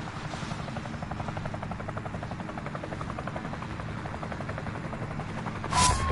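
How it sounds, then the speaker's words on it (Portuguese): Helicopter flying in the Call of Duty Warzone video game, its steady rotor thump and engine drone filling the scene throughout, with a brief louder burst of noise near the end. "tem um helicóptero"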